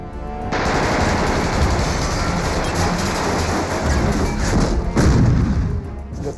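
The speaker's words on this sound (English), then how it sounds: "he called in a crump of 25-pounders" Continuous heavy roar of 25-pounder field artillery barrage during a WWII tank battle, loud, dense rumbling with rapid overlapping blasts and a stronger surge near the end, no speech.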